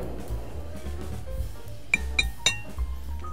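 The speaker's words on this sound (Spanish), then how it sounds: "empezamos a mezclar para que se integren estos dos ingredientes" Short pasta being stirred with pesto in a bowl, heard as a few bright clinks and scrapes of a utensil against the dish over a quiet kitchen background.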